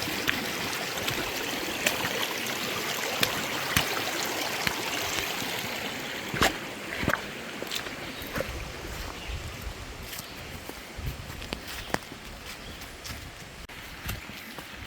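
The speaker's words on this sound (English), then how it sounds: "it's always nice to look at the stream" A stream flows at a rocky hiking-trail crossing on Monroe Run Trail, a steady broadband wash of water running throughout with small splashes and bumps, no talking.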